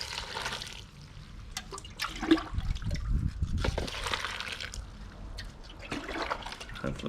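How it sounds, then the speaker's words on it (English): Water is poured onto sheep manure to make fertiliser, a close, irregular splashing and gurgling that rises and falls in bursts with trickling between pours. "You can see as I'm adding more water,"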